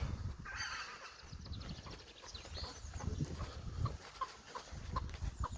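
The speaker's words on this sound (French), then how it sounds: "ça c'est une poule qui couve, qui là est venue se dégourdir les jambes" Several hens, including a broody one, in a shaded backyard poultry run give soft, repeated clucks and short calls at close range over steady background noise.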